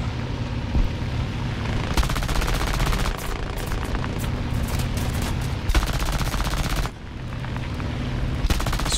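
Sustained, loud machine gun fire from a bomber's rear gunner in War Thunder, dense overlapping bursts rattling almost without pause for the whole stretch, no voices.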